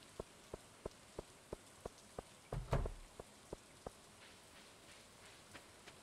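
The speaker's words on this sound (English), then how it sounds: "Everybody outside in the rain." Rain falls in the Stardew Valley video game as a soft, even patter. Regular light ticks run through it, and a brief louder rustling burst comes near the middle.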